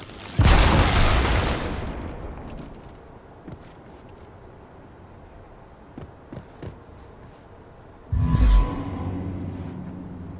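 A grenade going off in Halo 2 Anniversary Edition, a loud close boom with a rushing tail, followed by quieter clatter and a second heavy blast near the end, with no talking.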